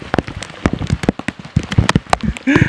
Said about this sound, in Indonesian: Hujannya makin deras guys